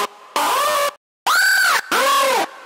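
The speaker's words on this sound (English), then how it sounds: "we will make complex screeches that are like instantly done with pitch automation and everything." Three bursts of a harsh, heavily distorted hardstyle screech synth built in the Vital synthesizer, each with sweeping pitch automation that bends up and back down, separated by short gaps of silence, loud and alone.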